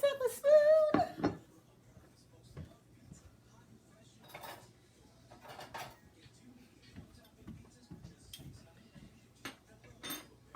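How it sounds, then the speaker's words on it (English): A small plate and a spoon being grabbed in a home kitchen while cornbread dressing is served, with sharp clinks and light clatters of dishes and cutlery amid quieter handling noises and a person talking. "just grab a little plate here. Let me get myself a spoon."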